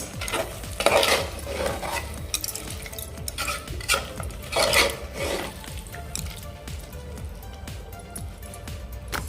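Malvani chicken gravy is stirred in a pan over a low flame, with repeated scraping and rubbing strokes of a spoon against the metal in uneven bursts over a faint simmering sizzle, close by.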